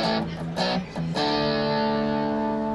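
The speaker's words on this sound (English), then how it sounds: "even more of a distortion, like it's less, you know, the fuzz is gone now." Electric guitar through an Analog Alien fuzz pedal with the input turned down for harder, heavier distortion; a few loud choppy strums, then one chord left ringing steadily.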